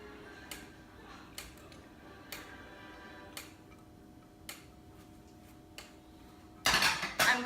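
Four eggs are cracked one after another into a bowl for waffle batter, heard as a series of sharp taps and clicks spaced a second or so apart, then a louder burst of rattling at the end, with no talking.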